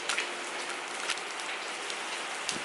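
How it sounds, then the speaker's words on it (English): Heavy rain pours down outside, a dense, steady hiss of drops pattering on surfaces with a few sharper splashes, close and continuous with no voices. "It is pouring."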